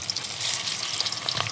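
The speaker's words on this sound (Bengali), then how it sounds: "তেল গরম হয়ে গেছে, এতটা উনান জ্বলছে। মাছগুলো ভেজে নেব।" Fish sizzling in hot oil over a lit clay stove, kajoli fish being fried for a curry, a dense, steady crackle and hiss throughout with no voices.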